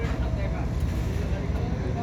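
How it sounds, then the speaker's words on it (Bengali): Two sand-carrying trawler boats race side by side, their engines producing a steady, dense low rumble, loud and continuous, together with broadband wash. "দুই বালির ট্রলার এখন প্রচন্ড পাল্লাপাল্লি চলছে"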